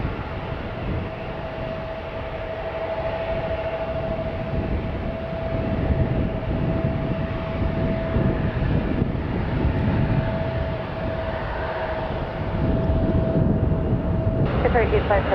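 Airbus heavy airliner landing at San Francisco International Airport, heard as a steady, loud jet roar with a sustained engine whine that swells slightly near the end, continuous throughout.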